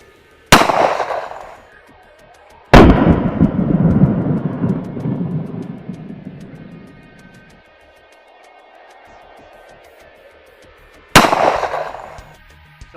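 Three loud gunshots from .45 jacketed hollowpoint defense ammunition, fired outdoors with sharp broadband cracks, the second followed by a long rumbling echo that fades over several seconds before the last shot.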